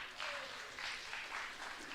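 Audience applause at an evening devotional gathering, a soft, steady patter of many hands clapping at a distance, fairly faint and continuous for a couple of seconds.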